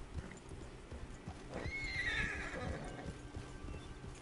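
A horse in Red Dead Redemption 2 gives a high, wavering neigh over a scatter of hoofbeats, fairly close and clear, with no one speaking.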